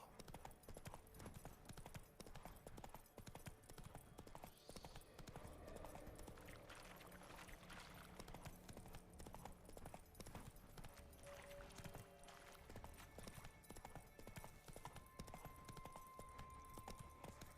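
Hooves of Geralt's horse Roach pound in a steady, rapid galloping clip-clop throughout The Witcher 3, a continuous close rhythm with faint game ambience underneath.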